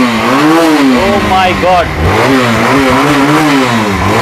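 A sports motorcycle's engine revs up and down repeatedly at close range, rising and falling in pitch, while a voice speaks over it.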